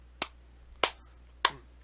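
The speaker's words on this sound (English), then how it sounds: "slow clap." Three slow, evenly spaced single claps, sharp and close, each ringing briefly against near silence, like a sarcastic slow clap.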